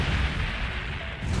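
Cannon fire in the Blox Fruits video game during a boss fight, a dense, booming low blast with rumbling tail filling the short moment, loud and close with no talk.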